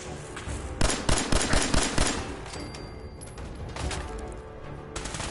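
Turret gunfire in the video game Fallout 4, a rapid burst of repeated shots with a crackling rhythm that fades into rumbling game noise, then another short burst near the end.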